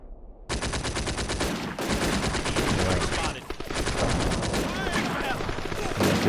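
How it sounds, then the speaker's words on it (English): Dense, sustained automatic gunfire from machine guns in the WWII North Africa war game Combat Mission: Afrika Korps, loud and continuous for several seconds after a brief quiet start, with a short dip midway. "Keep firing at the machine gun."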